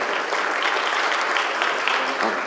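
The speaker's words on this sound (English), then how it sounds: "give these gentlemen a big round of applause for their service" Audience applause at a funeral service awards breakfast, a steady wash of many hands clapping at close range with no pauses.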